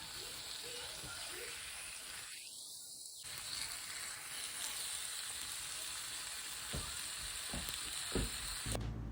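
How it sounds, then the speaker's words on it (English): Food sizzles and crackles steadily in a hot oiled pan, a close, continuous hiss with a brief dip partway through. "I love the sizzle sound effect."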